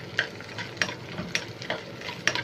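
Close sizzling and frying of potato and garlic in a small pan, with a few sharp scraping stirs at irregular intervals over a steady hiss.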